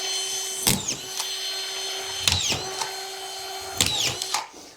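A power screwdriver drives screws up into ceiling boards in a trussed garage, with three separate close whirring bursts at steady intervals and a steady tool hum between them.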